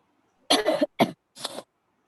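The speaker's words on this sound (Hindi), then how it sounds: "कौन है ये जिसको सर्दी खांसी है?" Three quick coughs in a row, close and fairly loud, with silence before and after.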